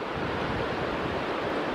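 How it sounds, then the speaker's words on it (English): Steady, dense rushing water roars continuously, broad and full like a nearby waterfall in Lebanon's Qadisha Valley, with no voices or breaks. "And just beside it you have a waterfall."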